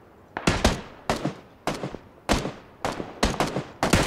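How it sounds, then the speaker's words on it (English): Rifle gunfire in PUBG: about seven sharp, loud shots in a fairly steady rhythm, each with a brief echoing tail. "I shot him twice in the head."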